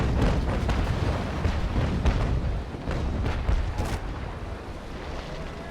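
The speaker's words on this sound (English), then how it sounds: "I'll shoot the back guns." Sailing ship's rear cannons fire in the Naval Action game, a dense rumbling barrage of booms rolling continuously for several seconds, loud and close.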